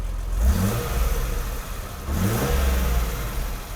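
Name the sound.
car engine revving with throttle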